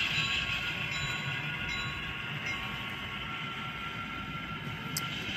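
A freight train sets off northbound toward East Deerfield Yard, its steady engine rumble and broadband rolling noise filling the scene at a moderate distance without pause.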